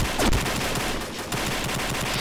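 Rapid automatic fire from an AN-94 rifle in the Combat Arms shooter game, loud dense bursts of shots with a brief pause in the middle, no voices.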